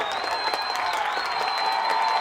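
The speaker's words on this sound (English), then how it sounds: "The Regal crowd loving it" Crowd at a women's college soccer match between UNC and Tennessee in an NCAA first-round game, a steady broad roar of cheering and applause throughout, fairly loud and sustained.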